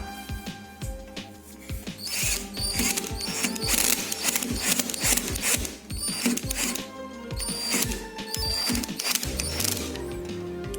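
Screw being tightened while a Mi TV soundbar bracket is mounted to a wall, giving a dense run of quick clicking, ratcheting taps close up, steady for about ten seconds with a brief pause near the middle.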